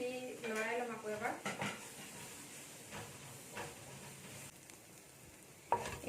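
Turmeric is stirred into fish curry with bathua greens frying in a pan over a high gas flame, giving a soft hiss and sizzle with scraping stirs; a voice talks briefly near the start, and a sharper clatter comes at the end.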